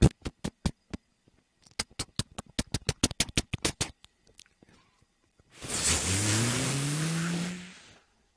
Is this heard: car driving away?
yes